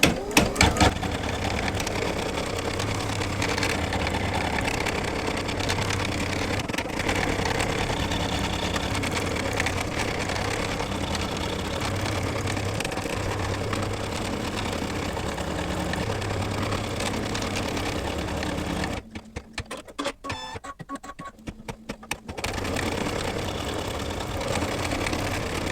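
Embroidery machine stitching an in-the-hoop coin purse, a continuous rapid mechanical whirring hum that runs steadily, then drops out briefly near the end before resuming.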